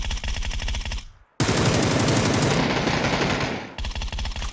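Rapid automatic gunfire in the battle royale game PUBG, a loud, dense burst that cuts off briefly, then resumes as a long sustained stream of shots before ending in a few spaced rounds.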